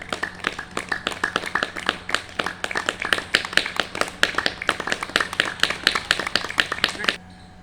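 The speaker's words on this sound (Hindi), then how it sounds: "वर्मा जी के प्रति जोरदार तालियां बजाइए" A yoga class claps together in a loud, steady run of sharp claps for about seven seconds, then it stops abruptly. A low hum sits beneath it.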